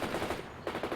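Rapid machine-gun bursts in the real-time strategy game World in Conflict, loud and dense, with two rattling volleys separated by a short gap.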